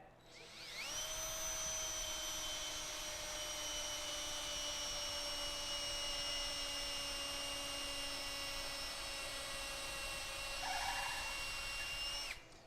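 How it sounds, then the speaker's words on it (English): A power drill bores into oak wood in a single sustained run, its motor whining steadily and loudly up close for about eleven seconds before spinning down, with no talk. "Making sure that the drill bit does not go through this side and above this."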